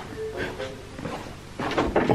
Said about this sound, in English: I literally heard a door opening